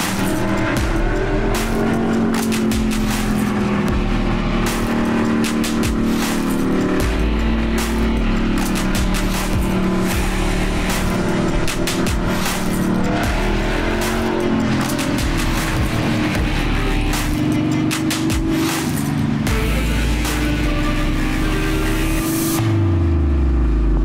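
A Chevelle race car with a 5-speed manual is driven hard, its engine roaring loud and continuous, revving up and down through gear changes with tire noise, a second car passing near the end.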